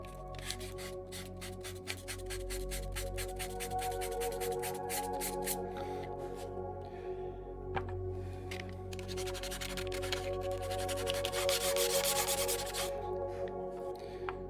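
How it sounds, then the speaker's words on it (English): Close, rhythmic scratchy strokes of sandpaper rubbing on a whittled wood piece, quick back-and-forth passes that turn into a denser continuous rasp near the end. "just to soften up the edge, the surface of this wood, a little bit of sanding"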